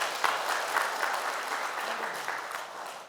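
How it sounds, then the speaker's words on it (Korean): Audience applause at a Korean Patriotic Martyrs' Day memorial ceremony, steady dense clapping from a crowd filling the whole stretch with no talk. "박수 부탁드립니다."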